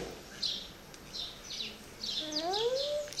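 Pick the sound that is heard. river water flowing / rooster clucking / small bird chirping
small bird chirping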